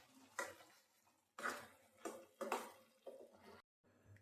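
Carrot halwa being stirred in a pan, about six quiet scraping strokes of a spoon against the metal in an uneven rhythm, close but faint, with no talking.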